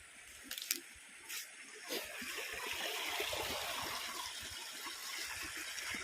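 Water gushing and splashing as a fish pond is drained on a farm, a steady rushing flow with a few sharper splashes early on, fairly close and continuous throughout.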